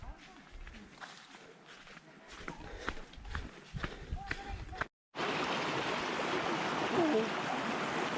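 Steady broadband rush of a waterfall fills the second half after a brief gap; earlier, footsteps and quiet voices move over a fainter water background.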